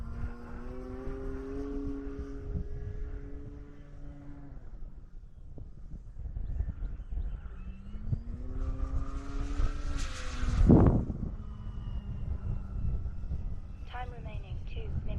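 A Grand Tundra plane engine in a video game drones with a steady tone that shifts in pitch, rising to a loud surge before settling, with a voice talking over it.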